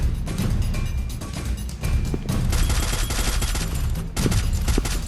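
Rapid bursts of gunfire fill a shooting video game match, dense automatic fire and repeated shots overlapping almost continuously, loud and close throughout with brief pauses between volleys.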